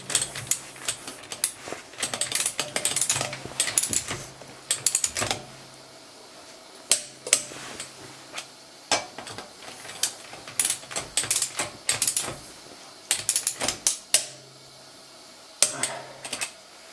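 A ratchet wrench tightens a rear wheel bearing on a Mercedes, with close bursts of rapid clicking separated by short pauses in a quiet workshop.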